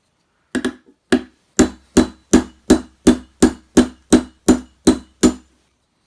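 Hammer striking a roll pin punch while detail-stripping a Baby Desert Eagle Gen 3 pistol: thirteen sharp, close metallic whacks in a steady rhythm, roughly two per second, each ringing briefly, with no talk.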